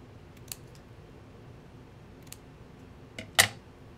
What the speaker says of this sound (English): there's these little bits here I just want to trim off just to clean up the edges